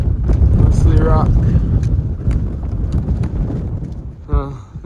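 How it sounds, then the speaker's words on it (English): Strong wind buffets the microphone on a rocky mountain summit trail along the Appalachian Trail in New England, a steady low roar throughout with brief gusts, and a voice speaks over it. "Well, at least the wind is at my back."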